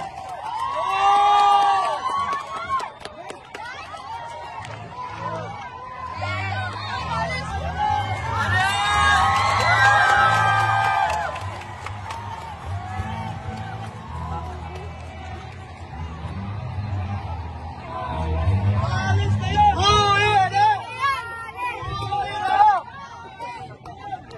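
A large crowd at a political rally for transparency and democracy shouts, cheers and whoops in surging waves, loud and close, with a voice speaking over the noise.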